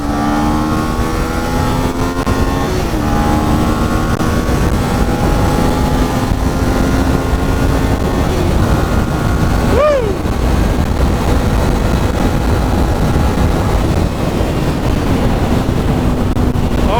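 A 2023 Kawasaki Z400 motorcycle being ridden, its engine tone climbing through the gears with brief dips at each shift and one sharp rev spike, loud and steady under constant wind rush.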